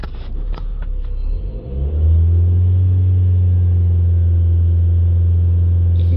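Ford Transit diesel engine cranking and catching, then settling into a steady, loud low idle rumble that holds unchanged to the end, close by with no talk.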